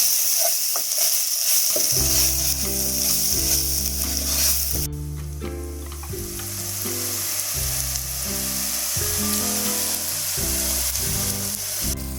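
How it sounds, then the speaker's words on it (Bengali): Egg curry masala with cumin powder and salt sizzles and is stirred in a hot pan, a dense close frying hiss that runs throughout under background music. "এবার সমস্ত মশলাগুলোকে আমি এর মধ্যে ভালোভাবে মিশিয়ে নিচ্ছি।"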